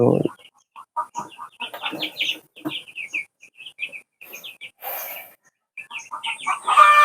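Small flock of broiler chickens kept at a home poultry setup, giving repeated short clucks and chirpy peeps in quick bursts, close by, with a brief human sound at the start and a rustle midway.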